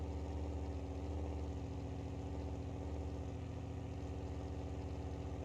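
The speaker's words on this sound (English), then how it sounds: "we will just see what happens if we max out this engine completely" A maxed-out twin-turbo monster truck engine in BeamNG.drive runs with a steady low, loud drone and a faint rhythmic pulse, holding an even idle-like tone throughout.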